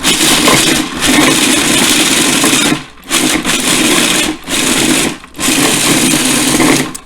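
Blender pulsing nuts for a raw apple crumble, a loud whirring grind in four bursts separated by brief pauses, with no talking.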